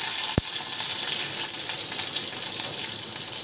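Chopped onion hits hot oil already holding crackling mustard seeds, green chilies and curry leaves for upma, giving a loud, steady, close sizzling hiss with a single sharp click near the start.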